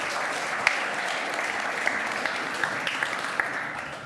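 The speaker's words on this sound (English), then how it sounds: "give her, please, a round of applause" A conference crowd at a digital finance event in Frankfurt gives a steady round of applause, a dense, even wash of clapping with a few sharper individual claps standing out.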